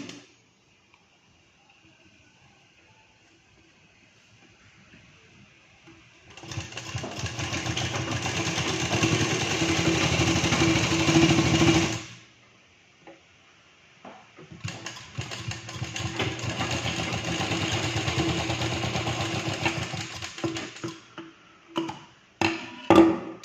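Sewing machine stitching a blouse and its lining: two long bursts of steady, rapid mechanical whirring and ticking, loud and close, separated by a short pause, with quiet handling sounds before, between and after.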